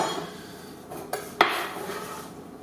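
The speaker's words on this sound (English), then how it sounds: "Throwing everything in a mise en place bowl." Chopped vegetables tossed into a mise en place bowl in a home kitchen, two or three quick clinks and rattles of pieces hitting the bowl over quiet background.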